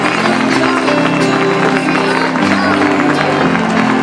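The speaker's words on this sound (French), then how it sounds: "un tonnerre d'applaudissements de la salle" A packed hall audience at a fashion show bursts into thunderous applause, dense continuous clapping and crowd noise filling the room for several seconds, with a voice carrying over it.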